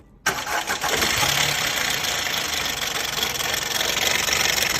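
An MG3 car engine cranks and catches after a brief moment of quiet, then settles into a steady, fairly loud running drone that continues to the end without talk.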